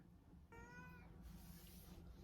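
A house cat meows insistently for its lunch, one long drawn-out, wavering cry up close in a quiet room, followed by a softer trailing call.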